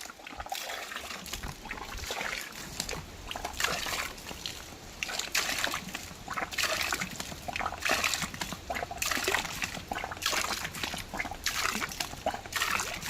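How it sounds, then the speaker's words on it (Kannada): Water gushes and splashes steadily into a bucket from a pump drawing well water without electricity or fuel, an ongoing trickling slosh with faint background noise throughout. "ಓ ನೀರು ತುಂಬ್ತಾ ಬಂತು ಒಂದು ಬಕೆಟ್ ನೀರು ತುಂಬಿತು"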